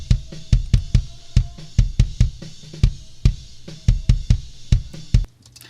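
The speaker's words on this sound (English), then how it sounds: "But the kick drum by itself, just recorded, sounds like this." An unprocessed recorded kick drum plays alone, repeated hits in an uneven groove, each a loud punchy thump with a short decaying tail, close and dry.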